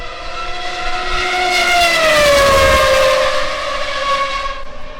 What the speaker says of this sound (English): That sound of that 412.